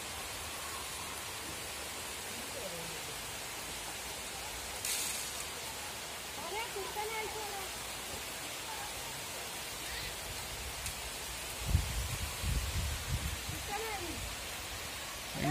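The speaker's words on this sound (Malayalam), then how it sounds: "വീണ്ടും മഴ ശക്തി പ്രാപിച്ച് വന്നിരിക്കുകയാണ്" Heavy rain pours down in Kerala as a dense, steady roar of falling water, loud and continuous throughout, with faint bird calls and a brief low rumble partway through.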